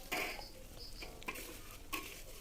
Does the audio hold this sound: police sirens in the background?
no